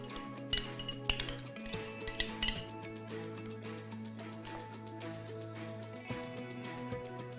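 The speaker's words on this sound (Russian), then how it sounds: "я беру нежирный и невлажный творог и перемешиваю его со сметаной" A spoon mixes low-fat cottage cheese with sour cream in a bowl, giving a quick run of light metallic clinks and scrapes early on, then quieter, sparser taps over a steady background hum, with no talking.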